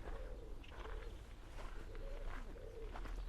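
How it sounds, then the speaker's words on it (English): Birds call in a churchyard in Uppsala on a sunny April morning, with a wood pigeon among them. Soft, repeated cooing phrases rise and fall over a quiet outdoor background. "Blackbirds, wood pigeon."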